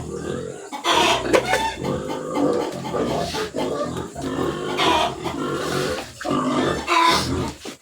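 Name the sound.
pigs grunting at feeding time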